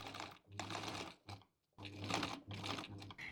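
Home sewing machine running back stitches at 2.5 stitch length while sewing a zippered fabric pouch, heard as several short whirring bursts of motor hum and needle chatter separated by brief pauses.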